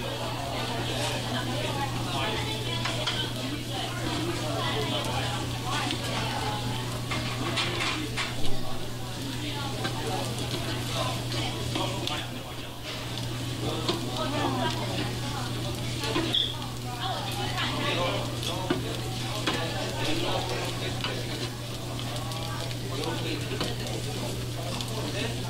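Chicken and fried rice for dakgalbi sizzle and are stirred in a hot pan at a Yoogane restaurant in Hongdae, Seoul, with scraping of a utensil, while people talk throughout and a low hum sits underneath.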